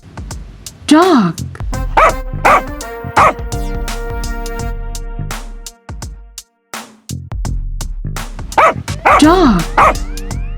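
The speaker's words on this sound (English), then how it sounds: "Dog." Dog barking in several loud, close bursts of yips and bow-wows, spaced across the clip with brief pauses between, set among other farm animal sounds.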